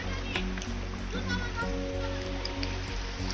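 A mountain river, the Ryang Khola, rushes steadily as a group crosses it, a continuous broadband water wash with faint children's voices and a low hum underneath.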